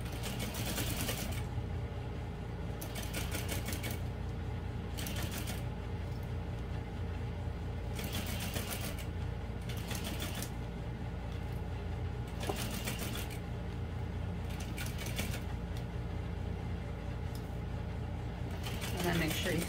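A sewing machine stitches through vinyl for a bowler bag, running in repeated bursts of rapid mechanical clatter separated by short pauses, with a steady low hum throughout.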